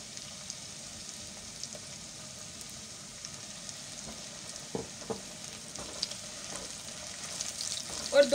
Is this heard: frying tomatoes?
yes